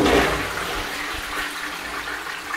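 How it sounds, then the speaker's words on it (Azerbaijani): A toilet flushes in the bathroom of a four-storey house, a loud rushing surge of water at the start that settles into a steady, hissing refill and trickle, with no voices. "unitazımız da var."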